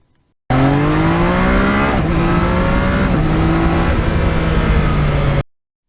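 A Yamaha MT-09 triple-cylinder motorcycle engine drones loud and close while riding, a steady gear-held hum with a couple of pitch dips at shifts, starting and cutting off abruptly.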